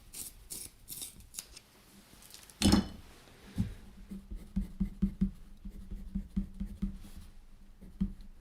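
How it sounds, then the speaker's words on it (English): A pencil is sharpened by hand, a series of short, close scraping and grinding strokes in an uneven rhythm, quiet and alone after a few light taps. "going to sharpen this pencil."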